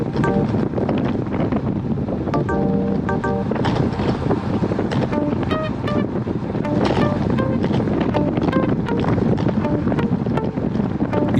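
Steady, heavy wind buffeting the microphone during a road-bike group ride into a headwind, a continuous roar that stays loud throughout with no clear speech.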